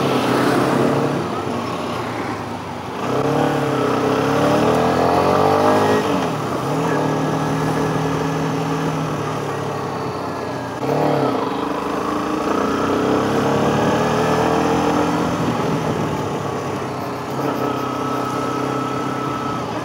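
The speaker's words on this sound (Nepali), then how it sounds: "आई लभ द साउन्ड तपाईलाई 150cc मध्येमा तपाईलाई अलिक साउन्ड प्रोड्युस गर्ने यो बाइक जस्तो लाग्यो" A brand-new CF Moto 150 NK, a 150cc fuel-injected motorcycle, revs and rides close by, its engine note repeatedly climbing and dropping through gear changes over a steady loud drone, with no talking over it.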